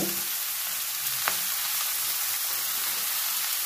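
Eggplant and chickpeas frying in a pan, a steady close hiss of sizzling oil with one faint scrape of stirring partway through.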